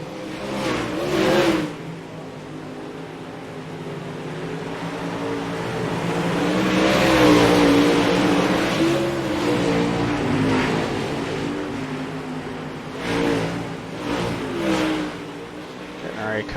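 A Super Late Model race car engine in iRacing at Volusia's dirt track drones and revs, rising and falling in pitch as the car works through corners, with a voice talking over it at times.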